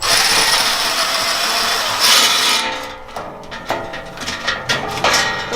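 Long bolts come out of the upper cover of a John Deere 6068 engine, with a continuous close hiss first, then a series of ratcheting clicks and metallic taps.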